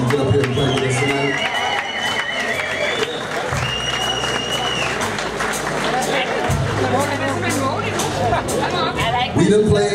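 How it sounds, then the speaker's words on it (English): Audience applause and crowd noise for a performer at a live blues and rock show, steady and loud throughout with sustained band tones and a voice over the top. "Give him a nice round of applause"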